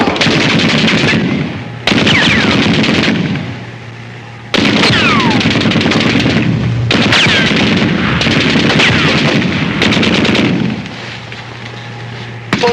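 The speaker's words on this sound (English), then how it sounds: "Machine guns!" Cartoon machine gun fire in a 1941 Flip the Frog wartime short, loud rapid bursts of rattling shots in several long volleys separated by brief lulls with a lingering hum.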